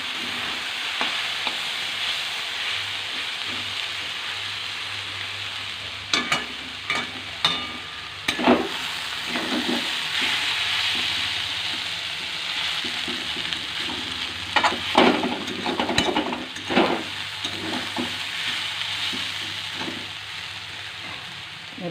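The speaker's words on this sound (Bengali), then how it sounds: "মাছটা এমনি আমি দেখেছি হালকা করে ভাজতে হবে, লাল লাল করে ভাজতে হবে।" Fish fries over low heat in a home kitchen pan, giving a steady gentle sizzle throughout, with occasional scraping and stirring knocks from a utensil.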